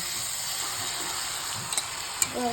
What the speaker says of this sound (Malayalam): ബട്ടർ ചൂടായി കഴിയുമ്പോൾ ഒഴിച്ചു കൊടുക്കട്ടോ